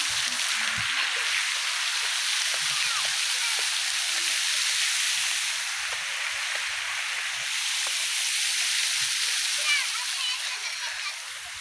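Garden water fountains at Brindavan Gardens in Mysore give a steady, dense rush of spray and splashing throughout, with faint voices nearby under the water.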